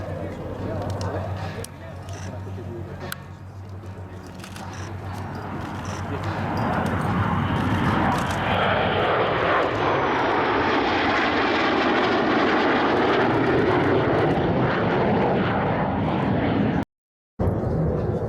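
A Dassault Rafale fighter jet roars past at an air base open day at Avord in September 2023, its engine swelling into a loud, sustained rumbling whoosh, while an announcer talks over a public address system.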